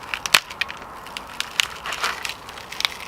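A grocery-store flip phone struck with a wooden board, giving a quick string of sharp cracking and crunching impacts, loud and close, with the heaviest hits near the start and end and no talking.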